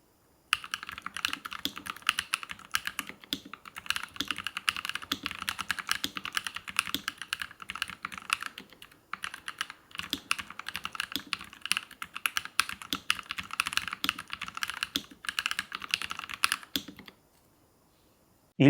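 Typing on a Nuphy Halo75 keyboard with lubricated Night Breeze linear switches, a dense run of soft clacking keystrokes close up, pausing briefly midway before resuming, then stopping.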